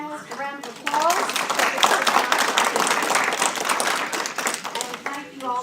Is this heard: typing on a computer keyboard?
no